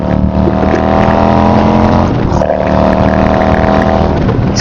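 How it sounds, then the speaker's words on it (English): Harley-Davidson motorcycle with a 147 cubic inch engine running through D&D exhaust pipes, loud, deep and close, holding a throaty idle that swells briefly into a rev midway before settling back, with no talk over it. "these pipes are absolutely some of the best exhaust systems you can ever put on your motorcycle"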